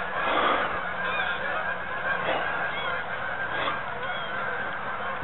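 Several geese honk repeatedly at a moderate distance in the evening, their calls overlapping against a quiet outdoor background.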